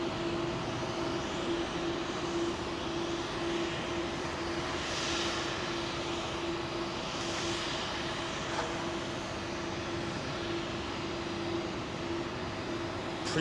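An Iberia Airbus A330 at London Heathrow gives off a steady, continuous jet roar with a faint tonal hum running through it, holding at a constant distance for the whole stretch.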